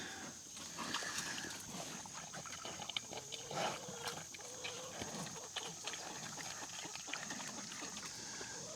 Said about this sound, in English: the pigs ate those eggs right up